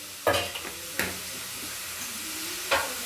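Onions fry in a pan on a home stove, with a steady hiss of sizzling and a few sharp stirring clatters of the spoon against the pan, heard close.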